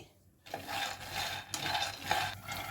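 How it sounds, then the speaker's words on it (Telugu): A cup of peanuts dry-roasting in a kadai, stirred with a utensil, giving soft repeated scraping and rattling swishes that start after a brief quiet moment. "కడాయిలోకి ఒక కప్పు పల్లీలు వేసాను ఇవి దూరగా ఎంపుకోవాలి"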